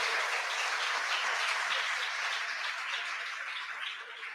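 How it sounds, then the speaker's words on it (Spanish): Audience applause for a teacher at a book presentation at a radio station, a dense, even wash of clapping from a modest crowd that holds steady and eases slightly toward the end. "Fuerte los aplausos para la maestra Shirai"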